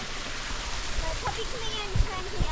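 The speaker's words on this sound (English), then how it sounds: "here's the last waterfall." Lesmurdie Falls in Australia pours as a continuous broadband rush of water close by, with a few faint thuds and scrapes on top.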